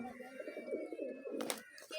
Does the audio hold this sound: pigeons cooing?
yes